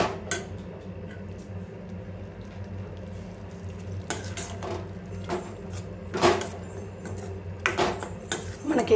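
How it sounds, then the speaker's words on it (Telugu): Tomato curry ingredients fry in a pan while a spoon stirs them, with a soft continuous sizzle beneath intermittent scraping and clinking strokes of metal against the pan, close by. "ఇవన్నీ వేసిన తర్వాత మనం కాసేపు అట్లా ఫ్రై చేసుకోవాలి అంతే."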